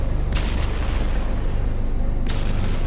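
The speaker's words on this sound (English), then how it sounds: "I'm still hearing some distant rocket fire in the background." Distant rocket fire booms low and rumbling, with two sharper blasts standing out against a constant deep background roar.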